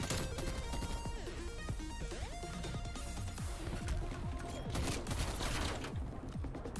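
Rapid gunfire from a KSP submachine gun in a first-person shooter game, dense overlapping bursts mixed with game music and effects, loud and continuous throughout.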